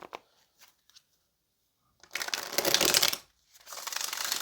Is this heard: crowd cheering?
no